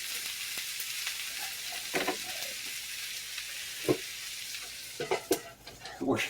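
Vegan sausage, onion, potato and pepper frying in a skillet for a beginner vegan dinner, a steady low sizzle with scattered stirring scrapes and clinks that grow busier near the end.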